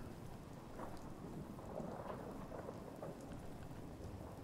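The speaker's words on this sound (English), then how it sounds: "it's bloody well raining in here" Steady rain patters and rumbles with soft thunder inside a building in Fallout 4 VR, a continuous wash of drops with low rolling booms, no talk.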